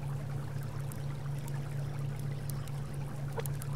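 Water pouring steadily in the survival game Subsistence, a continuous trickling stream over a low constant hum, even in loudness throughout with no speech.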